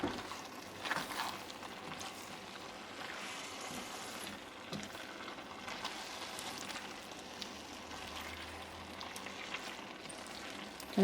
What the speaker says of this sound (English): You can hear the juices.